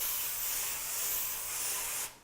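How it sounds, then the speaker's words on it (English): A steady cooking spray hisses continuously for about two seconds at close range onto a baking pan, then cuts off abruptly. "So I'm going to spray it."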